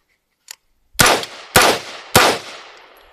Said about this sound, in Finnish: Ammutaan se aset tyhjäksi.